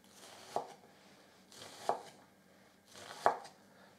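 A kitchen knife chops through an onion into chunks on a board, three quiet, evenly spaced cuts each about a second and a half apart, each with a soft thud, in a calm room.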